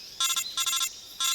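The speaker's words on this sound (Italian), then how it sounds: "Ci hanno cambiato la suoneria comunque." Codec ringtone from the video game Metal Gear Solid 3 Snake Eater: three short bursts of a bright electronic warbling tone, evenly spaced and loud, with no talking.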